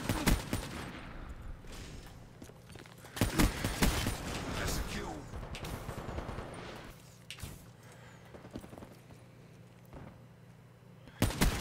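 Sniper rifle fire in Black Ops 3, several sharp loud gunshot cracks spaced irregularly across the stretch, mixed with scattered in-game gunfire and mechanical clatter.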